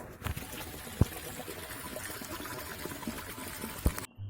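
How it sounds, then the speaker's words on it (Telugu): A small stream of water trickles and gurgles steadily, close by, with a couple of sharp clicks and no voices. "ఆ వాటర్ సౌండ్ బాగుంది, మళ్ళీ క్లిప్ యాడ్ చేస్తా"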